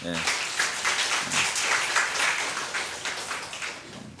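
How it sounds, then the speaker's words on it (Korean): Congregation clapping at a Korean church Wednesday worship service, a sustained, moderately loud round of applause from a gathered crowd that swells and fades over several seconds. "박수 한번 쳐줘요."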